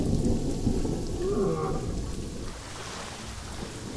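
Steady rain falls with a low rumble of thunder in the Planet Zoo zoo-building game, a continuous hiss and deep roll that swells early and softens toward the end.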